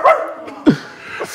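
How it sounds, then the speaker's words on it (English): Dogs bark in a few short, sharp yips spaced apart, close and fairly loud, with no talking over them. "Dogs on the side."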